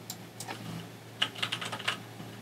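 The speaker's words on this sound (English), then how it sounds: "I could just type in the economy" Several quick, light keystrokes tapped on a computer keyboard, clustered into a short burst toward the end after a few isolated taps, close by with no talking.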